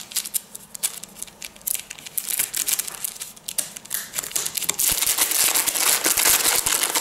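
A black face mask's ziplock plastic packet is snipped and opened close up, with quick scissor cuts followed by a steady crinkling and rustling of plastic.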